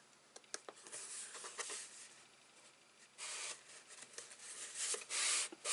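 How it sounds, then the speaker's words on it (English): Paper being rubbed down by hand onto glue in a scrapbook album, soft dry rasping strokes in short bursts with longer, louder swipes toward the end, close and quiet with no talk. "just rub down, making sure you get all the air and spread the glue"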